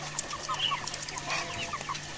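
Village hens clucking in soft, scattered calls as they peck at cowpea leaves in a rural Konkan yard, a steady murmur of several birds close by with no talking.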